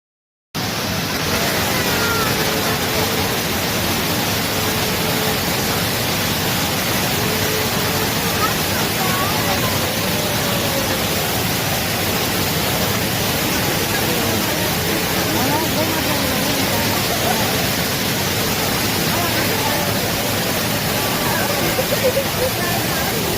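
Steady broadband roar of water pouring down at Thirparappu waterfall, loud and continuous throughout with no break, a dense rushing wash that fills the whole scene.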